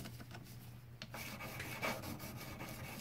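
Abrasive grit rubbed over a metal casting in long back-and-forth strokes, a steady close scratchy rasp with no voices.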